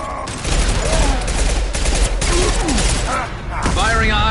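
Rapid bursts of sustained gunfire in the video game Mass Effect 2, loud and dense over several seconds with brief pauses, mixed with game voices speaking between volleys.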